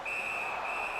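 A referee's whistle in the NHL 19 hockey video game sounds as one sustained, shrill, steady blast over arena noise, with no talk.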